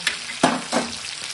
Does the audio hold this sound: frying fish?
yes